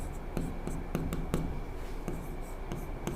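Chalk or marker strokes on a board during a Hindi-language physics lesson on electric charges and fields, a series of short scratchy taps and scrapes with a steady room hum beneath and no talk over them.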